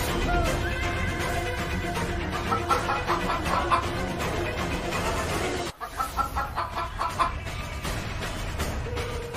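Rooster clucking over a dense, busy mix of other sound, steady throughout and briefly cut off partway, then resuming with rhythmic bursts.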